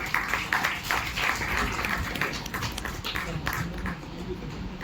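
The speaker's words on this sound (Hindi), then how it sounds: "किशोर पार्थी सर के लिए जोरदार तालियां बजाएं" An audience at a World Environment Day science centre event breaks into steady, dense applause that gradually fades.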